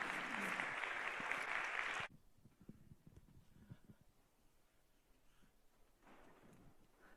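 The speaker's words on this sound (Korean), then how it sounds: "우리 박수로 환영하도록 하겠습니다" A church congregation at a revival meeting claps to welcome a missionary to the pulpit. The loud, full applause lasts about two seconds, cuts off sharply, and leaves a quiet room with faint shuffling and small sounds.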